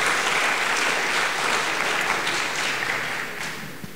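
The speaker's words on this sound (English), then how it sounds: "I think that certainly deserves an applause." Audience applause at a Q&A event, a broad wash of clapping from the crowd that holds steady and then begins to taper toward the end.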